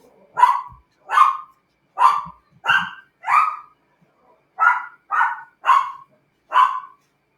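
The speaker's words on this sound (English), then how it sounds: "Dog is barking" A dog barks nine times in short, evenly spaced bursts, loud and close, with brief silences between them.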